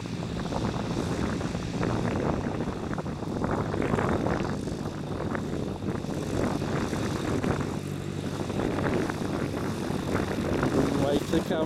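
A light propeller aircraft taxiing in after a solo flight, its engine droning steadily at close range throughout, with wind buffeting the microphone and voices talking over the engine noise.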